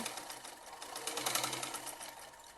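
A sewing machine stitches a strap-style kurti, with a steady, continuous mechanical whir that runs close and fairly faint throughout, rising slightly in the middle.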